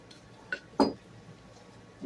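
Zucchini muffin batter stirred in a bowl, heard as a few soft clinks and a brief thicker scrape of utensil against the bowl, close and quiet over low background noise.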